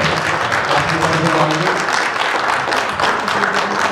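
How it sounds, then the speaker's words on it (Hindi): Loud, sustained applause from a crowd welcoming the Bhojpuri Dabanggs celebrity cricket team at their jersey launch, dense clapping that continues throughout, with some voices mixed in. "एक जोरदार तालियों के साथ आपका स्वागत है"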